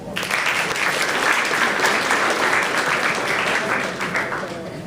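A general assembly audience at a closing-day model UN session breaks into a steady, full round of applause, loud and sustained before tapering slightly at the end.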